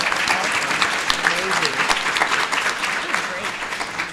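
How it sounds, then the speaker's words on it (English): Audience applause for a panel of women at a business forum, a steady dense clapping that fills the whole stretch, with a brief voice calling out over it. "I just want to give another round of applause to these great women for being here."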